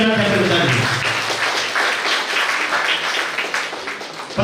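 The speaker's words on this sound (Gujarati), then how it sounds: "જોરદાર તાળીઓથી ગડગડાટ આપણે બતાવીએ" Audience applause at a Gujarati poetry collection launch event, a sustained wash of many hands clapping that fills the room at steady loudness for several seconds with a voice heard at the start.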